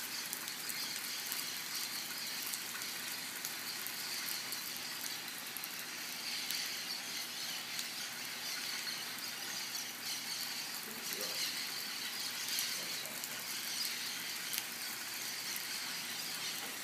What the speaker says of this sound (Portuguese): Tem trocentos periquitos lá.